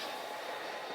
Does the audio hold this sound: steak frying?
no